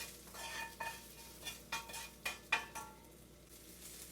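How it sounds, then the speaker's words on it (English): Roasted almonds are stirred into sautéed cabbage in a pan, giving quiet scraping strokes and a few light clinks of utensil on cookware in an irregular rhythm over a faint sizzle. "Just mix it all and let it sit"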